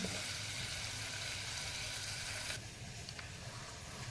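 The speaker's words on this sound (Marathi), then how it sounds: "वांगी शिजत आहेत" Eggplant cooks under a lid on a tawa with curry leaves, giving a steady close sizzle and frying hiss throughout that drops slightly quieter partway through, with no talking.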